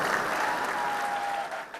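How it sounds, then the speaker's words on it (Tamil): An audience claps steadily in a hall for nearly two seconds, a dense, loud, continuous patter of many hands that thins slightly at the end. "கைத்தட்டுகின்றவர்கள் பாதிக்கப்பட்டிருக்கிறார்கள்"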